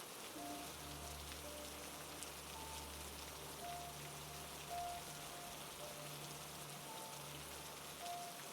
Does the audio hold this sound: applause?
no